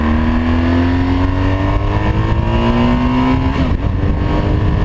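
BMW GS motorcycle engine pulling away from a stop, its loud steady note climbing in pitch through first gear before a brief dip as the rider shifts into second, heard close with no talk.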